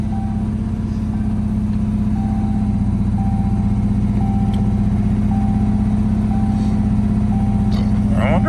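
A Saleen car engine idling rough on its own with ATF-smeared headers, a loud continuous low rumble with a pulsing uneven beat and a faint repeating tone above it, close up and without pause.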